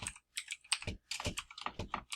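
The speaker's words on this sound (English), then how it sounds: "we'll type in windshield wiper" Typing on a computer keyboard to enter a windshield wiper part description in car care software, a quick run of close, crisp key clicks in several bursts with short pauses between.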